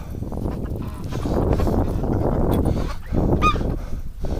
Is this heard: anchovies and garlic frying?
no